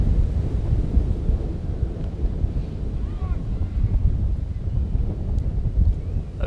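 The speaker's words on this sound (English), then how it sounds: "Very windy day here at Port Huron High." Strong, steady wind roars and buffets the microphone throughout, a dense low rumble with no pauses, at an outdoor high school baseball game.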